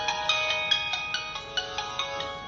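A phone rings with a repeating electronic tone, bright pulses about every 0.4 seconds over a sustained chord, steady and moderately loud with no talking.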